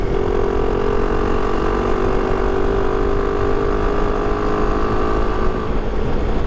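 Vehicle engine running hard at full throttle after a clutch repair, a loud, steady, droning roar that holds constant throughout without pauses, close and alone with no talk.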